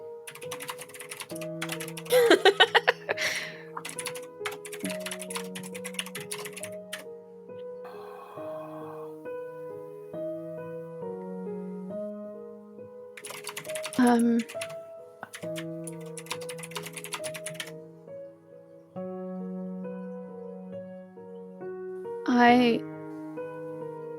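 Bursts of quick keyboard typing come and go over a steady background of soft tonal music, close and moderately loud.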